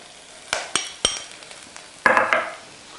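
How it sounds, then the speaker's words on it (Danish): Shallots frying and hissing in a pan, stirred with a utensil that scrapes and clinks a few times against the pan before a louder sizzling burst near the end; close and with no talk. "Og skalotteløgene, de skal lige blive klare, og så kommer vi morklerne ned til dem."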